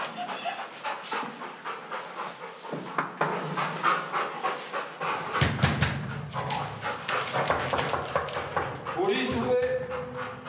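A police sniffer dog pants rapidly and steadily as it searches near an apartment door in a Marseille housing estate; the close, rhythmic breathing continues throughout, with voices and some background activity.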